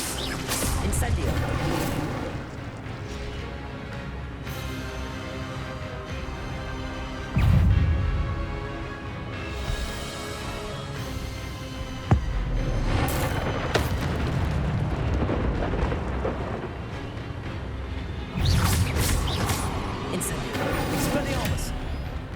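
Incendio fire spell cast in Hogwarts Legacy, with repeated fiery bursts and booming eruptions crackling over a busy combat mix, several heavy impacts standing out amid continuous rumbling effects.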